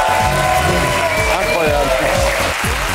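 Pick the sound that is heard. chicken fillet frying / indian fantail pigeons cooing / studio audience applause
studio audience applause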